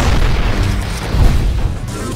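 Nonstop gunfire and explosions in the video game Damnation, a dense rumble of deep booms and pops rolling continuously without pause.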